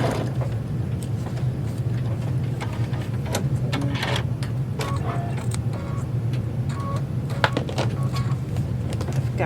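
Sewing machine stitching seams on a fabric puppet bag, a steady rapid mechanical whir with faint ticking, continuous and close throughout with no voice.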